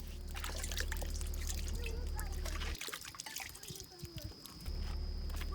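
A small grinding stone is rinsed with water outdoors in a jungle setting, soft trickling and splashing close by under a steady background hum, with voices talking over it.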